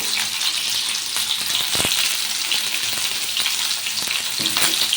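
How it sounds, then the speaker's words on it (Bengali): Potato pieces frying in a pan with green chilli and a little salt, a loud continuous sizzle with occasional stirring scrapes and crackles, steady throughout. "এবার আলুটা লাল করে ভেজে নেব।"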